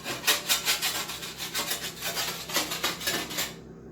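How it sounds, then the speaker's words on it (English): A roasting tray scraped after beef bones were roasted on it, a close, loud rhythmic rasp of repeated strokes that runs steadily with no talking. "You want to scrape your tray and get all that."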